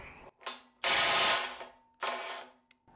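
A DeWalt compact impact wrench loosening, heard as a short buzz and then two loud sustained rattling hammering bursts separated by a brief pause, close and alone.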